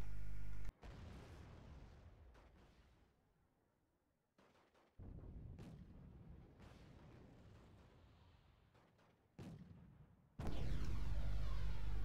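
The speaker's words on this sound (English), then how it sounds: "Right, napalmed completely and utterly." Napalm strike and explosions in the Wargame: Red Dragon real-time strategy game, with heavy low booms and rumbling blasts arriving in several bursts, separated by brief gaps and ending in a loud, sustained roar.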